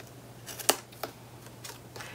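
Cutting a notch in an album base board, a few faint, sharp snips or clicks spaced apart over a quiet background hum.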